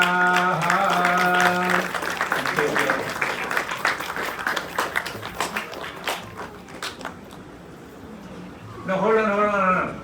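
Soft, mellow applause from guests at a Hindu wedding ceremony, a patter of scattered claps through the middle of the clip between stretches of chanting and voices.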